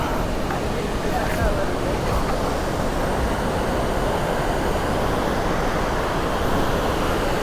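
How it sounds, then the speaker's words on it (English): Waterfall in Munnar, Kerala heard from a nearby cafe: a steady, dense rushing roar of falling water that holds at a constant level throughout, with a voice speaking over it. "And there is the waterfall."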